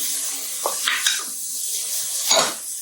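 Diced small onion and finely diced celery sizzle in hot olive oil, a steady close hiss broken by short scraping stirs and light clatter from the pan.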